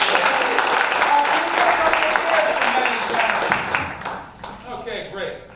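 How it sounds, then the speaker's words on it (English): An improv show audience claps for two volunteers, a lively burst of applause that tapers off, while a voice talks over part of it. "A round of applause for Maddie and Tanner"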